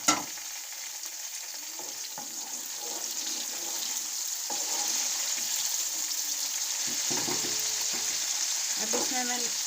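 Sliced onions sizzle steadily in a pan for a Qeema Matar Pulao, browning toward golden, with occasional stirring scrapes and faint tap-like clinks over a continuous close, even frying hiss.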